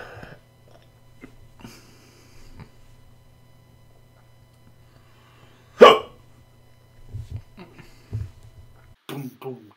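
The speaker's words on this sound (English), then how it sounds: "got a hiccup" A single sharp hiccup stands out midway through a quiet stretch, with a low steady hum beneath and scattered soft clicks, breaths and small mouth sounds around it.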